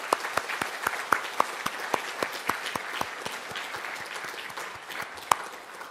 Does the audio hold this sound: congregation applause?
yes